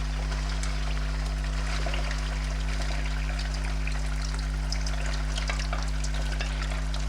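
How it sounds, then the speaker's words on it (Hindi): Large pieces of beef brain frying in hot oil, a steady close crackling sizzle with scattered pops and a constant low hum underneath, no speech. "सबसे पहले मैं इसे फ्राई करूँगी, इसमें डाल के"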